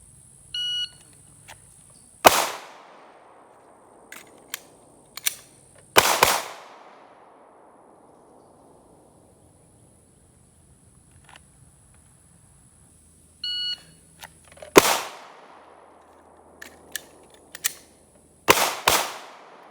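Sharp gunshots from timed shooting practice, fired in two separate bursts of several rapid shots with quiet stretches between, plus a few short electronic timer beeps, loud and close.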